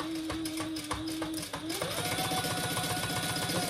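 A sewing machine bastes a lining piece for a tote bag, running a steady rapid stitch with a brief shift in pitch midway, close and continuous.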